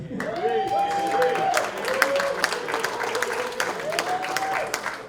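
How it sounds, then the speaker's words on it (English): Members at a Lions Club officer installation give a steady round of applause, many hands clapping together while a voice speaks over it at intervals. "Can you give another round of applause for Lion Rob?"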